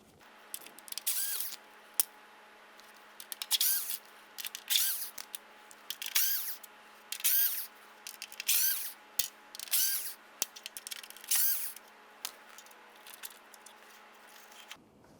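A power drill backs Phillips screws out of the grille trim on a 2006-2011 Honda Civic in about ten short, whirring bursts separated by quiet pauses, close up and with no talking.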